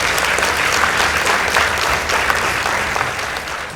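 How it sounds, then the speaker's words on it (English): A studio audience at a televised school debate between Mugoiri Girls and Kangubiri Girls High School claps loudly and steadily, a dense wash of many hands that holds for the whole stretch and eases slightly at the end. "Let's give them a round of applause, please."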